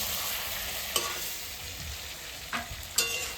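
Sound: stirring fish frying in a pan

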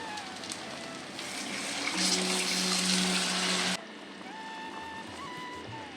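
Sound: straining tamarind water into pan

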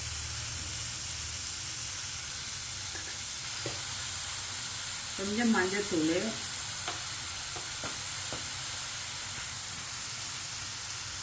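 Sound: sautéing bitter gourd with chickpeas in a pan

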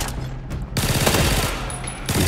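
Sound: gunfire in Arena Breakout video game

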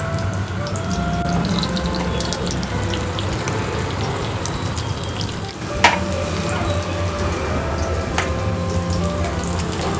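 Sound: onion frying in cooking oil

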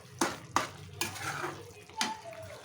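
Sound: stirring mushroom curry masala with a spoon

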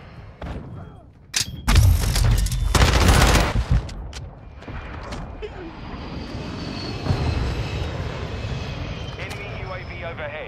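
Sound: enemy UAV aircraft flying overhead in a shooter video game

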